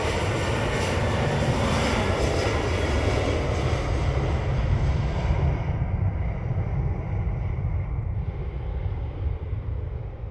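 A plane landing at an airport in Jamaica: a loud, steady, broadband jet roar fills the whole stretch, slowly easing in its upper hiss toward the end, with no voices.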